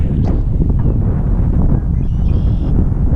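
Strong, gusty wind buffets the microphone at an RC model plane flying field, a steady low roar throughout with a brief faint whine partway through.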